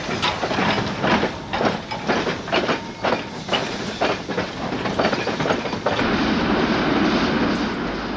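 Two steam locomotives, an 0-8-0 well tank and a Romanian-built engine, work a train on a narrow gauge railway north of Bucharest, Romania, with loud rhythmic exhaust chuffs, then a steady hiss and rolling rumble as it passes close by.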